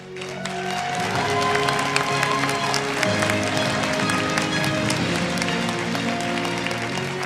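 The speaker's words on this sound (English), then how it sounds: "Let us welcome him with a big round of applause" A large audience at a global peace leaders' conference gives a sustained round of applause that swells quickly and holds steady, broad and roomy, with music playing underneath.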